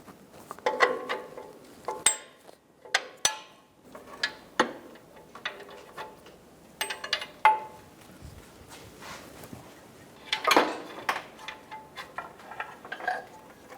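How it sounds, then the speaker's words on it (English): A socket wrench works an upstream O2 sensor loose from the exhaust manifold of a 2000-2007 Ford Focus, giving a run of irregular close clicks, ratcheting ticks and metallic knocks with short pauses between bursts. "Using a 22mm socket or wrench, remove the O2 sensor."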